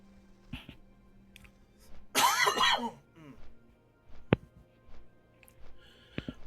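One rough cough burst, turned away from the microphone so it sounds slightly off-axis, amid quiet background hum and scattered clicks, with a couple of sharp taps afterward.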